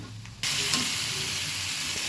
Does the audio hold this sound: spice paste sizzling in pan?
yes